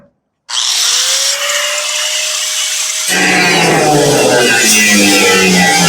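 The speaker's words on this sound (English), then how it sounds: "we'll go ahead and try it with the grinder" A grinder cuts into the metal bed floor of a 1969 Ford F100, starting abruptly with a rising whine and then biting into the steel in a loud, harsh, continuous grind up close.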